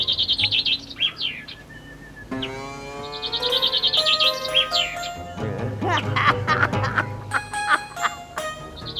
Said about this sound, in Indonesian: Lu denger itu suara burung?